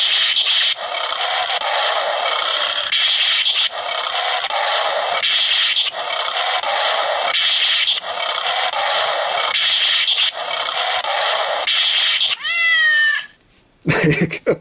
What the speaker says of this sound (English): It's just funny they just threw a meow in there like this.